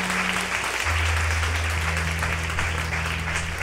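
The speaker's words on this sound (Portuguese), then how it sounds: "Você pode aplaudir o Senhor pela vida deles." A church congregation applauds at an evening worship service, a steady wash of clapping filling the room throughout, with a low sustained organ or keyboard tone underneath.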